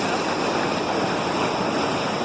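Steady broadband rush of waves washing in at St. Pete beach in Florida, a continuous surf wash with no talk.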